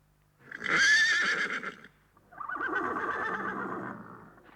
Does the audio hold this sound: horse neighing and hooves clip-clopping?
yes